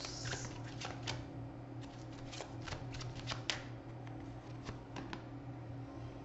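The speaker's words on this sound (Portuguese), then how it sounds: "Deixa eu só embaralhar um pouquinho mais." A Cigano (Gypsy) fortune-telling card deck being shuffled by hand, giving a steady papery riffle with repeated crisp card snaps and flutters, close and fairly loud, over a low constant background hum.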